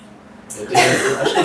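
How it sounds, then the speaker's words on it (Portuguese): A single short cough bursts out close to the microphone, harsh and breathy, following a brief quiet moment. "Ela já começou a tossir"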